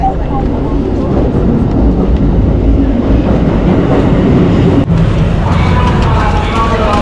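A train in Tokyo heard from on board: a loud, continuous rumble and rattle of the carriage, with voices talking over it throughout.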